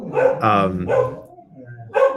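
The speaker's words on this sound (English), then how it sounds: "you're going to hear the dogs bark" Dogs bark a few times indoors as someone arrives home, the barks rising over a person talking nearby.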